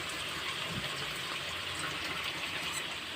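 Water poured into a cooking pot in a home kitchen while preparing a Filipino dish, a steady, continuous rushing splash with no talk over it.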